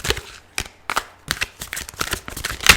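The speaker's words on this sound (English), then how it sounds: "If you don't like the shuffling, please move forward." Tarot cards being shuffled by hand, giving repeated papery riffles and flicks in uneven bursts, close and fairly crisp with no voice.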